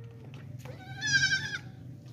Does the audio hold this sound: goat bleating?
yes